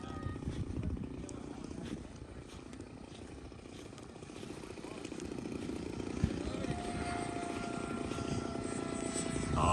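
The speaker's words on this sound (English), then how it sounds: "That jet taking off." A jet airplane takes off at an air show at Scobee Field. Its engine roar is rough and broad, growing steadily louder and nearer over several seconds, with faint crowd sounds in the background.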